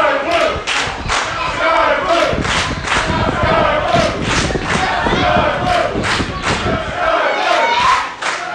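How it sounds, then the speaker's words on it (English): A crew and staff at a Zero1 USA women's wrestling match chant in a steady rhythmic cadence, with repeated claps or stomps and general crowd noise under a commentator's voice. "now you hear the crew and the staff of Zero1 USA chanting for Skye Blue"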